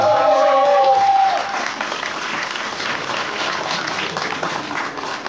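An audience at a NABBA women's novice bodybuilding championship in the Czech Republic gives steady, sustained applause, with a brief tonal sound at the start before the clapping settles into an even wash.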